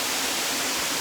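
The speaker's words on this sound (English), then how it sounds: "Made it to the waterfall." A waterfall on a hike near Minca, heard as a dense, steady rushing hiss of falling water, loud and continuous for about a second with no voices.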